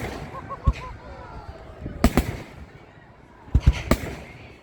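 Fireworks at the Southampton 2025 display bang in sharp bursts, first a single boom and then clustered pairs and triples of loud reports, while onlookers talk nearby between the explosions.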